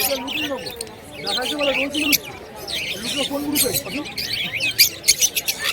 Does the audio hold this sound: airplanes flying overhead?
no